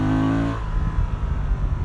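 Engine of a Honda Transalp 750 or Yamaha Tenere 700 adventure motorcycle pulling hard under acceleration, a loud, close, rough exhaust note rising steadily with no talk over it.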